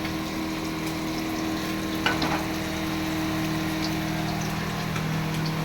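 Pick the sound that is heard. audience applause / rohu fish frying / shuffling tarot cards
rohu fish frying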